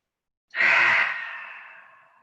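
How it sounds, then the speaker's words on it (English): A single deep clearing breath during a yoga session, a long audible exhale that swells quickly and fades gradually, close and alone with no talk. "take 3 big clearing breaths"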